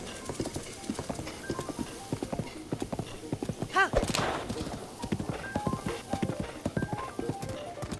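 A ridden horse in The Legend of Zelda: Breath of the Wild clip-clops steadily along a road, giving a short whinny midway, while a player talks over the running hoofbeats.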